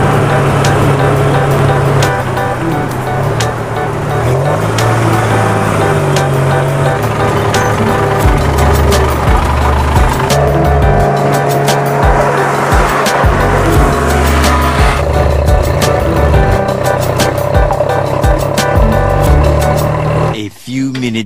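A mini tuk-tuk carries a passenger to a bus station in Phitsanulok, its engine buzzing loud and constant with road rumble and rattles, and a brief dip at the end.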